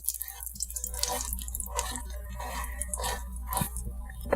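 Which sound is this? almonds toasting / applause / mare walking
almonds toasting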